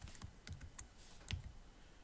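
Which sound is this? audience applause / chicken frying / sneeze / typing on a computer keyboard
typing on a computer keyboard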